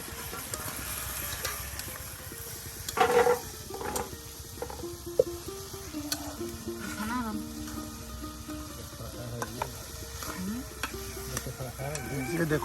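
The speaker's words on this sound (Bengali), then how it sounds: "দাদা কিন্তু একদম মিক্সড করে দেখুন আলুগুলো ভালো করে এই যে পেঁয়াজ কুচি মশলার সাথে মিক্সড করে নিচ্ছে" Boiled potatoes mixed with chopped onion and spices, with irregular scraping and stirring knocks and a light sizzle close by, while people talk and birds chirp in the background of a village setting.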